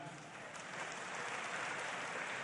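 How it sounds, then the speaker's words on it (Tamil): A hall audience at a Nagarathar village songs event clapping hands together, a broad, sustained patter of many hands that holds steady and swells slightly toward the end, with no talk over it. "அந்தந்த ஊர்ல இருந்து வந்திருக்கவங்க தயவு செய்து கைதட்டுங்க"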